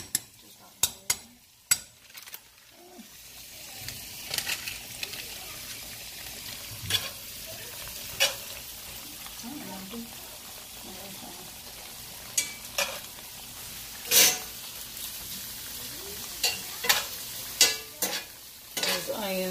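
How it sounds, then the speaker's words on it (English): Onions sizzle and crackle steadily in a hot pan on high heat, punctuated by sharp scraping clicks of a utensil stirring now and then, close by. "Those onions are sauteing to that nice soft consistency, that nice soft texture that I like."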